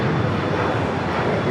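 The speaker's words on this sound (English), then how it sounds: "This is Delta Airlines Flight 7 heading to Tokyo Haneda. This A330 Neo, brand new, just delivered in November of last year." A Delta Airlines Airbus A330neo jet roars steadily at Los Angeles International Airport, a dense broadband engine rumble that holds constant throughout.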